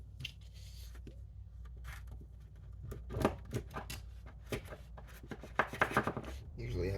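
An old fitting on a DIY gravity-feed oil filtering setup is being cut off, giving a series of short, close snipping and crunching cuts, sparse at first and then quickening, with faint handling noises between them.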